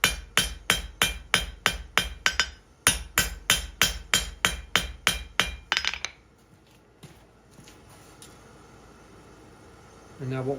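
A hammer strikes a hot forged steel fire poker bar in quick, even runs of ringing blows, about a dozen in each burst, with a brief pause between bursts and quiet shop noise after.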